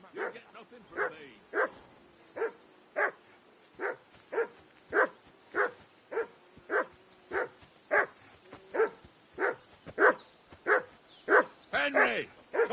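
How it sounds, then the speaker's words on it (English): A dog in Kingdom Come Deliverance 2 barks in a steady series of about twenty sharp, evenly spaced woofs, close and fairly loud, with a few whiny yips toward the end. "call that dog to heel."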